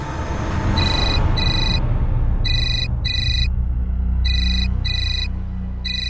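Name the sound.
phone ringing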